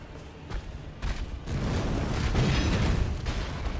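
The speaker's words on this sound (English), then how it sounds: "I can't hear you because of the explosion." A dense, rumbling explosion in the video game Elden Ring, a continuous roar with repeated heavy thuds that builds and stays loud throughout.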